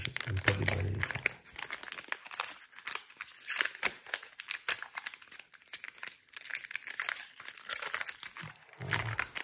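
Plastic wrap crinkles and tears as board game cards are unwrapped, a near, busy rustling that runs throughout with brief low bumps at the start and end.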